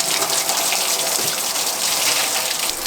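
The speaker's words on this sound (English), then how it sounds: "I disconnected the top and bottom radiator hoses. They're just draining out now" Coolant draining from the disconnected top and bottom radiator hoses of a 1HD-T Land Cruiser 4x4, a steady rushing gush of liquid pouring out continuously, close and fairly loud.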